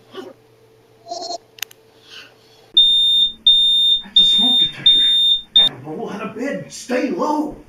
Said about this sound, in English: The smoke detector's going off!